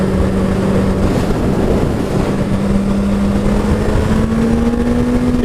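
A 2014 Suzuki Hayabusa GSX1300R motorcycle engine pulling under steady throttle while riding, a loud continuous drone whose pitch rises gradually, with wind rush throughout and no talk.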